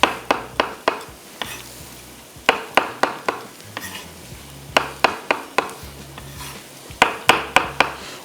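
Six or seven mushrooms cook in a pan for a beef and onion dish, with a faint sizzle under a steady rhythm of loud, close spatula scrapes and stirring strokes.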